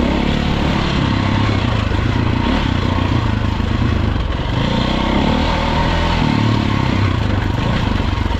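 A dirt motorcycle engine drones continuously on a trail ride at Green Mountain, loud and close throughout with steady throttle and no talking.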